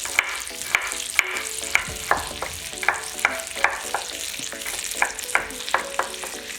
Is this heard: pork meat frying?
yes